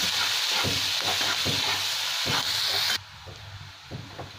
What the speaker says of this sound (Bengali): পেঁয়াজটাকে 2-3 মিনিট ভালো করে ভেজে নিচ্ছি।